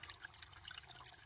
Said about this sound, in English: See, it's just dripping water in there.